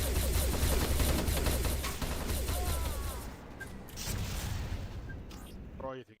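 Shotgun fire in a video game bursts loud and dense in rapid overlapping blasts, then thins out with scattered shots and a faint electronic chirp, with a voice talking at the end.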